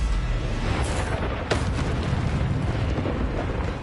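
In the Hogwarts Legacy video game, the Incendio fire spell bursts out as a loud, rushing roar with a crackling surge, filling the moment with dense, explosive noise.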